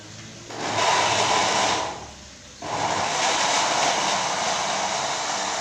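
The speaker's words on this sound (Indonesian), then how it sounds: "kemudian kita nyalakan blendernya" An electric blender whirs loudly while blending shallots with milk, running steadily, dipping briefly as if paused, then surging back to a continuous high-pitched roar.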